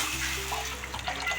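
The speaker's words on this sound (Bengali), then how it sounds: "এবার আমি একটু জল দিয়ে দেবো" Water is poured from a container into oil-fried mustard masala in a pan for a pomfret curry, a brief close splashing gush with sizzling texture.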